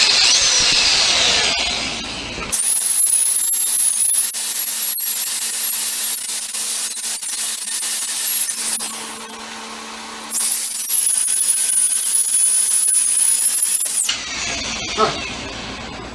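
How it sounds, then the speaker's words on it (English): A power drill bores holes into a wooden log in two long, loud stretches, steady grinding whine with a brief pause between, then stops. "I'm gonna drill some holes."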